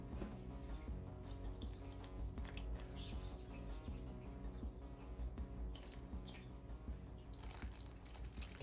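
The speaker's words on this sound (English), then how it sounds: "I'm going to start by trying to add some water to see if we can use that to kind of lure her out easier." Water is poured into the burrow of a baboon tarantula, a faint, steady trickling and dripping with small splashes that continues throughout, with light chirping in the background.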